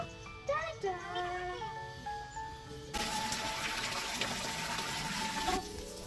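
A pet parrot at bath time, first giving a few close, sliding chirps and whistles, then a sudden steady gush of running water for a few seconds that cuts off near the end.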